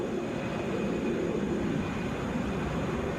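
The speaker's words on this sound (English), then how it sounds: "This is Delta 1432 headed to Dallas," A Delta Airbus A319 jet bound for Dallas at Atlanta International Airport gives a steady, loud broadband roar that holds constant throughout, with no speech.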